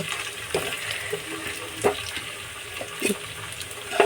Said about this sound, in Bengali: আগে আলু আর চিকেনটা খুব ভালো করে তেলের সাথে ভেজে নেব